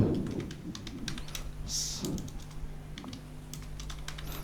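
An SQL query is typed on a computer keyboard in a steady run of close, crisp key clicks over a low background hum, with no voice.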